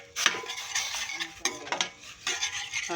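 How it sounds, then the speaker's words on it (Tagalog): Coconut milk stirred in a cooking pan for ginataang sitaw, a spoon scraping and clinking in a few close uneven strokes over a soft simmer. "Hahaluin mo ng kumulo ang gata"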